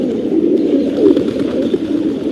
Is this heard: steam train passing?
no